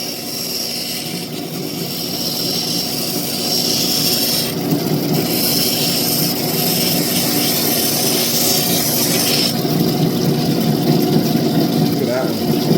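A lapidary grinding wheel works a Royston turquoise stone with pyrite, giving a loud, steady motor whine and continuous abrasive grinding that swells slightly midway and holds without pause.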